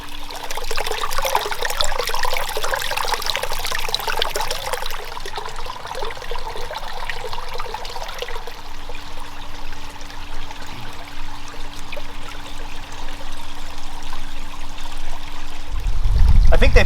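Water sloshes and trickles in a backyard goldfish pond as someone squats in it and stirs, a continuous close splashing wash with a faint steady hum underneath.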